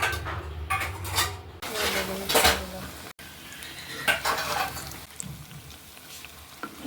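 Beguni, battered eggplant fritters, fry in hot oil with a soft sizzle beneath clattering utensils and pan scrapes, busiest early on and settling into quieter frying.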